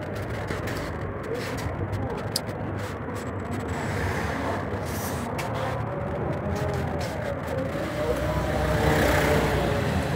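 A car passes on a busy city street, its engine and tyre noise rising gradually over background traffic and swelling near the end, moderately close.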